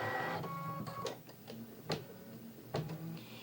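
A computerized embroidery machine stitches out alignment crosshairs for a quilt block, giving a steady mechanical whir with rapid ticking and a few sharper clacks, close and alone with no voices.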